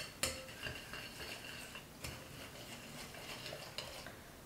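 A yeast and sugar mixture is stirred in a bowl, giving a quiet, steady scraping with a few sharp clinks of utensil against the bowl, close and alone.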